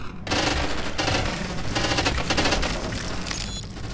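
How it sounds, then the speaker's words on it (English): Sustained gunfire from the Half-Life G-String game mod, dense overlapping shots and bursts filling the whole stretch at a steady loud level, with a thin high electronic tone running above. "I hear gunshots."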